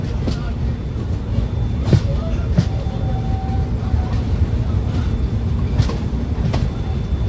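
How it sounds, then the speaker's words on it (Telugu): A train rumbles past steadily and loudly near Kazipet Junction, with occasional metallic clicks and a brief squeal, voices faint underneath. "ఇదిగోండి ఈ ట్రైన్"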